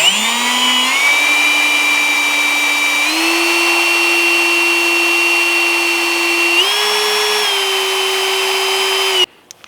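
A power tool spins a Scotch-Brite pad at slow speed against a Louisiana grill, whining steadily and stepping up in pitch a few times before cutting off abruptly at the end.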